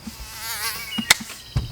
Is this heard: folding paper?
no